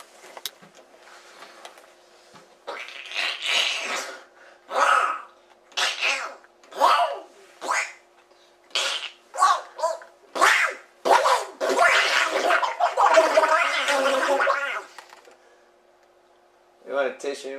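A man imitates Donald Duck sneezing, producing a long string of sharp, raspy, squawking bursts close to the microphone, separated by short pauses and then run together before falling quiet.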